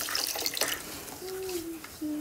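Soap being rinsed off a cabbage under a running kitchen tap: a steady hiss of flowing water with splashing at the start, fairly close, alone with no talk.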